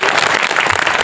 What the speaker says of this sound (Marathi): त्यांच्यासाठी जोरदार टाळी वाजवा